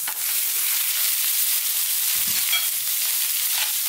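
Pork for sweet and sour pork hitting a hot Chinese wok, a loud continuous sizzle and fry with brief stirring clatter partway through, no voices.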